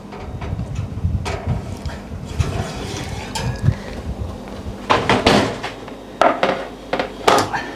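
A chicken tikka tray comes out of a home oven with a series of sharp clunks and clatters, as if a metal oven door and tray are knocked, some loud and close, spread over several seconds.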